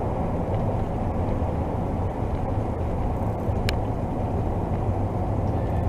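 Interior drone of a very large pickup truck cruising on a road, a steady low rumble and road roar heard from inside the cab, continuous and even with no talk.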